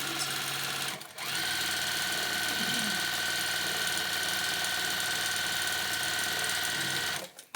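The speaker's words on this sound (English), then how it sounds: "we're going to stitch that 1/4 inch away from the edge, back stitch at front" A sewing machine stitches a Maya bag a quarter inch from the edge, running in one steady, fast, whirring burst for several seconds after a brief pause, then stopping.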